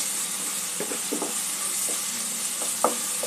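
Chole masala spices frying in a pan, a steady soft sizzle with a few scattered scraping stirs and one slightly louder clack near the end.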